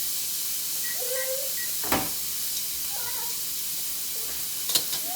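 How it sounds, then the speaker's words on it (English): Steak searing in a pan just after being flipped, giving a faint, steady sizzle with a couple of sharp clicks of utensils against the pan. "we're going to flip that steak"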